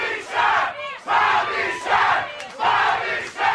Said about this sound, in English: they're chanting Pat louder than they were chanting Bobby Shaft